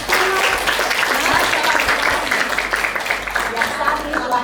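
Audience applause at a student talk show in Indonesia celebrating high-achieving biology education students, a dense steady wash of clapping that fills the whole moment, with crowd noise mixed in.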